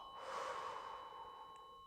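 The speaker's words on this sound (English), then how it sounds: "you'll hear me breathing a lot in my session" Long, soft exhale of deliberate breathing during a somatic energy-clearing session, a single faint sigh-like breath swelling and fading close to the microphone over a quiet background.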